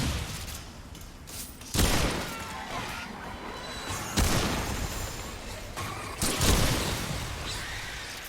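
Pistol gunfire in the video game Remnant 2, several sharp shots and crashing impacts at irregular intervals over a dense, noisy game soundtrack, fairly loud and close.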